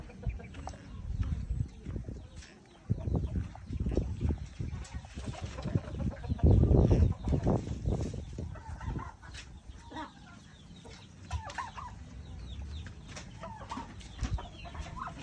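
Rhode Island chickens on a free-range poultry farm cluck and squawk in a busy, irregular chorus, close and fairly loud, with a rooster crowing now and then and faint voices in the background.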